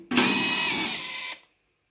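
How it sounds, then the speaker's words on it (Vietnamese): A power drill unscrews the fasteners of a storage box for EVE 24V 105Ah battery cells. It gives one steady, loud whirring burst of a little over a second, then cuts off abruptly into silence. "Đây để em lấy cái khoan em tháo cho mọi người xem."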